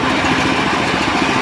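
Petrol engine of a small reaper harvester fitted with a 120 universal cutting header, running with a steady, loud, close rattling drone and no voices.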